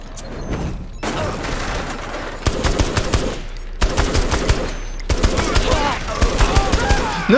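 Automatic machine gun fire from the video game Saints Row: The Third comes in loud, rapid sustained bursts separated by brief gaps, with explosive impacts mixed in.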